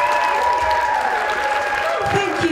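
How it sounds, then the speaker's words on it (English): Audience at a comedy show keeps up continuous applause as comedian Penny Ashton comes on stage, a steady dense clapping wash with a voice speaking over it. "please keep that applause going and welcome to the stage the very wonderful, lovely and very talented comedian Penny Ashton!"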